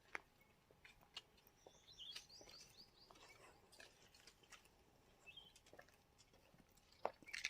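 Birds call in a forest where leaves are falling: faint, scattered high chirps and tweets over a quiet rustling background, with a few brief sharper notes near the end.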